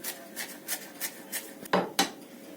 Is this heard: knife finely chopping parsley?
yes